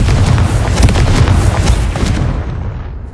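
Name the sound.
Confringo blasting spell explosion, video game Hogwarts Legacy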